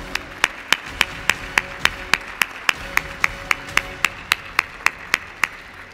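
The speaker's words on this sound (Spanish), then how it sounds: "Un aplauso para ellos," At an awards gala, an audience claps in a steady, evenly timed rhythm, each sharp clap ringing out clearly against a quiet room background.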